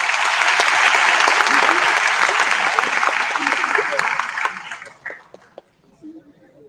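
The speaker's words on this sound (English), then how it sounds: "Give a big applause to all of you." Dense audience applause at a student union presidential election debate, loud and steady for about four seconds, then thinning to a few scattered claps and dying out.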